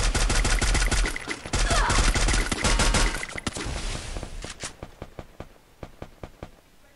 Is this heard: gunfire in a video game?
yes